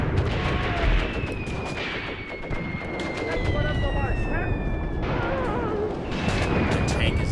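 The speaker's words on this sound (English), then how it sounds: "the enemy is targeting us with mortars" Mortar rounds land in Graviteam Tactics Mius Front, a wartime video game, as loud dull booms and scattered gunfire under a continuous battle din, with tonal whistles and a voice speaking at times.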